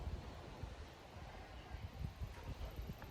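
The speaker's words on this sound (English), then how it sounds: "Maybe hear the wind in the trees." Wind gusting through trees on a mild breezy day outdoors, a soft rushing with low buffeting rumbles on the microphone, faint and uneven, with no clear speech.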